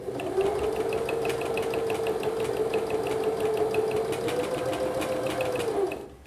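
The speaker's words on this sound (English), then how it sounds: "we're now ready to just sew in a straight line" A sewing machine stitches a straight double hem in one continuous run, its close, steady mechanical hum carrying a quick, even needle tick that slows and stops at the end.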